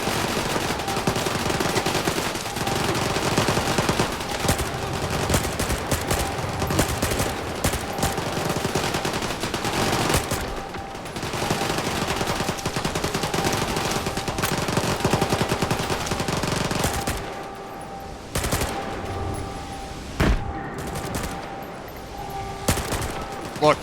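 Sustained automatic gunfire from the video game S.T.A.L.K.E.R. 2, dense rapid bursts filling most of the stretch, then thinning out near the end to a few scattered shots against quieter background sound.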